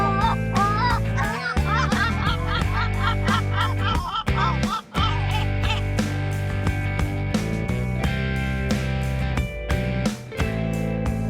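Loud, repeated honking gull calls come in rapid bursts, close and harsh, with brief pauses between runs of cries.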